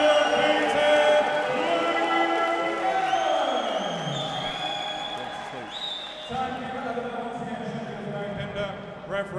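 A boxing crowd at a Salford fight night cheers and roars in a sustained, dense wash, with shouts and whistles rising over the din and no pause across the stretch.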